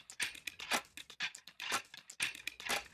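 Sticks percussion preset from the Zero-G Mobeus plugin, a sparse, uneven run of dry, scraping clacks and rattles, fairly quiet and close, with short gaps between groups of hits.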